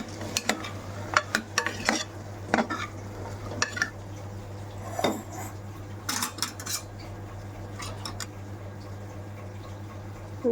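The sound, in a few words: stirring potatoes and tomatoes in a pan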